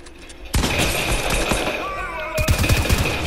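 Rapid Fortnite gunfire bursts loudly from the start, with a sharper, denser volley near the end, while players talk over the shooting.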